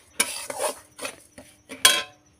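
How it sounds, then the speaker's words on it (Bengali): A spoon stirring rice flour and sugar in a pan over low heat for orange sandesh, with a few separate scraping strokes and clinks against the pan, close and crisp. "গ্যাসটা কিন্তু কমিয়ে রেখে এটা নাড়তে হবে।"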